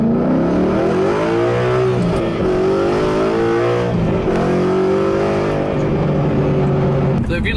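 A Ford Mustang GT fitted with an AWE Tuning Touring Edition axle-back exhaust accelerates from 5 to 45 mph, a loud, close, continuous V8 roar rising steadily in pitch through several gear pulls.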